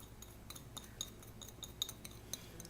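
A utensil stirs and clinks against the bowl as a Mexican shrimp cocktail with brown onion and fresh cilantro is mixed, giving a quiet series of light, irregular metallic taps close by with no talk.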